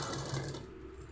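A sewing machine stitches thread piping onto cloth in a quick, faint mechanical burst that fades within a second, with no voices.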